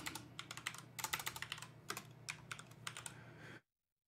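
Commands being typed on a computer keyboard while setting up flight-controller software, quick bursts of close, crisp key clicks with short pauses, ending abruptly in silence.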